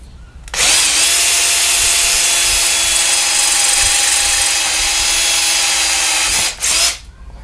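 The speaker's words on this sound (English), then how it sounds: "I'm going to put a third hole right here in the center of this part of the U-bolt" A power drill bores a hole through a metal U-bolt bracket on a Moxon antenna build for 6 meters, a loud, steady whine running about six seconds before a brief dip and a final short burst.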